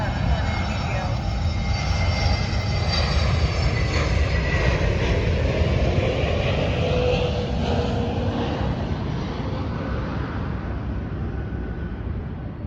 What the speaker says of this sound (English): an airplane will be going by when I start recording the video